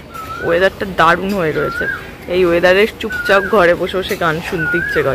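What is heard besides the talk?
koel calling nearby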